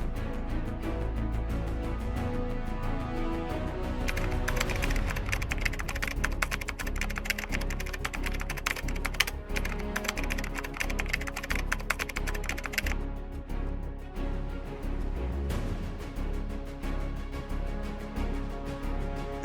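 Keys clatter in steady, rapid typing on a computer keyboard while writing a first Python program, close up under a constant loud background drone, with the tapping densest in the middle stretch.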